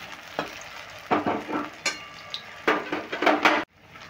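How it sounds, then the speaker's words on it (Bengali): Ash gourd leaves frying in a pan, oil sizzling softly under irregular scrapes and clinks of a spatula turning them, with sharper metallic knocks against the pan. "দেখো বন্ধুরা, উল্টে পাল্টে একদম লালচে করে ভেজে নিলাম।"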